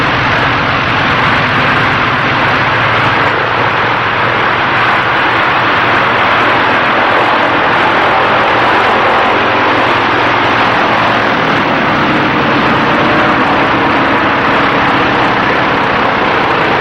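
A propeller airplane lands at the strip of an old fishing village on the coast, its engine drone loud and steady throughout with no pauses and no voices.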